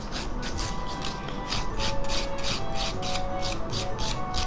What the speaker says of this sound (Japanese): グリッドぐらいのネイルファイルでお爪の表面を傷つけます。